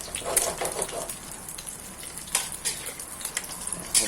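An egg fries in hot oil in a pan, giving a soft, crackling sizzle with scattered sharper pops and spits, fairly close and steady without talk.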